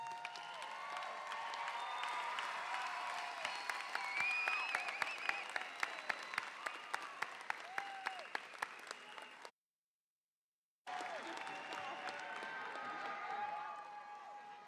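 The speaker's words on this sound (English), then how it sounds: "How about a round of applause?" Applause from a crowd at the 2024 MSU Texas Graduate School spring commencement, steady clapping for about ten seconds, then a short silent gap before it picks up again at a lower level.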